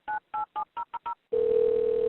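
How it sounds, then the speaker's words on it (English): A telephone call being transferred to a county sheriff's dispatch: six quick touch-tone dialing beeps, then a steady continuous tone from the line, clear and close. "the phone rang for 20 seconds"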